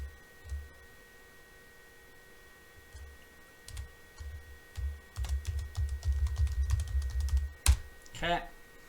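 Keys tap on a computer keyboard while a password is entered, soft irregular clicks that grow into a quicker run of typing over a constant low hum, with a brief voice near the end.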